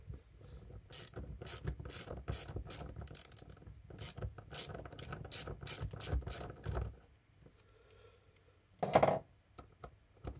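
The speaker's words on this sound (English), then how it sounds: "thin weld socket, so I need to find amongst all this crap. There we go, that'll do me. 1/4 inch." Ratchet turning a 1/4 inch thin weld socket to remove a part on a Stihl TS350 cut-off saw, a quick series of close, quiet ratcheting clicks and rubs, then a pause and one final burst.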